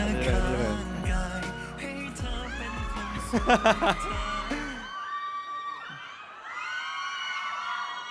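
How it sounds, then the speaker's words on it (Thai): A crowd at an on-stage event cheers, whoops and shrieks as a guest named Tul is welcomed up, a dense wall of high excited voices that thins slightly halfway through but keeps going. "พวกเราขอเสียงปรบมือให้กับคุณตุลหน่อยครับ"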